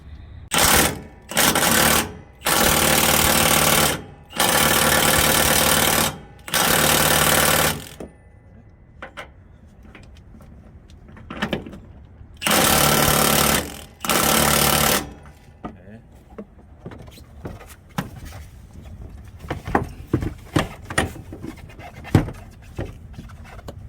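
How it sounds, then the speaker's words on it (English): A jack raises the cab of a Volvo VNL 730 truck with a D13 engine in loud, rhythmic bursts of mechanical rattling, separated by pauses, followed by quieter clanks and shop noise. "We're jacking up the cab a little bit, so while we remove it off."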